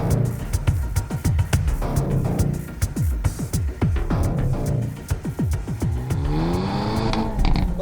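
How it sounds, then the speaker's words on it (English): A 2024 Hyundai Elantra N launches hard from a standstill with the clutch dropped at high revs, its engine roaring and climbing through repeated rising sweeps while a brief tire squeal marks a little wheel spin near the end. "A little bit of wheel spin."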